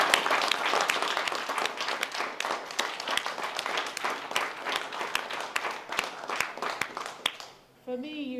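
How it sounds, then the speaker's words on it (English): Audience applause for a band at an exhibition opening and memorial plaque unveiling for Admiral Nelson in a hotel, steady and dense for about seven seconds, then fading as a voice begins speaking. "Can we give them a round of applause?"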